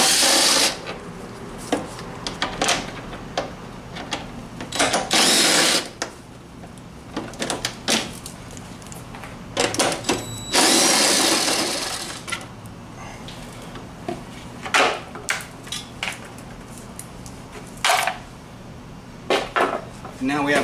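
Metal clanks and rattles as a cover is pulled off during an oil drain, with sharp scraping clatters in irregular bursts, some loud and close, separated by quieter handling noises.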